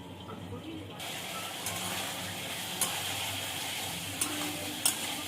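Potatoes mixed with ground ginger, cumin, chili and turmeric fry in a pan with a soft continuous sizzle, stirred with a few sharp scrapes and taps, fairly quiet throughout.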